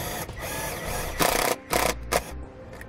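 Number 12 self-tapping screws are driven into the floor of a 2005 NuWa Discover America fifth wheel camper, a close power driver whirring steadily and then rising in three short louder bursts as each screw bites.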